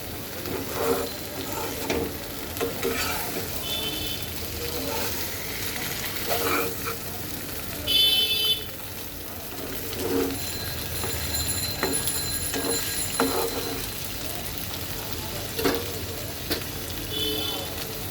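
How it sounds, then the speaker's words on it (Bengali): Fried pointed gourd is mixed gently with spices in a pan, with a continuous moderate sizzle, soft irregular scrapes and clinks of the utensil, and an occasional faint ticking in the background. "খুব আলতো হাতে কিন্তু মশলাগুলো মাখতে হবে"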